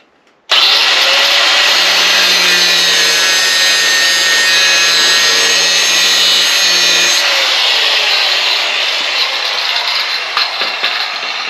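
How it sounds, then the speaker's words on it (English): A cutoff wheel whines loudly and continuously while cutting a slot in metal on a cargo trailer, a high grinding roar that starts abruptly and keeps going, with the pitch shifting slightly as it bites. "This is a cutoff wheel. I'm just going to take it and I'm going to sink it right across there"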